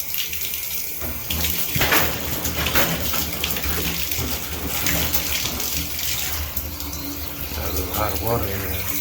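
Hot water runs steadily from a shower faucet during a bad faucet replacement, a continuous close hiss and splash of flowing water with someone talking over it.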